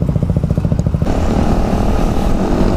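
Yamaha Aerox scooter fitted with oversize tires riding through city streets, its engine droning steadily and loud close by, with a pulsing rhythm that smooths into a continuous hum as it moves along.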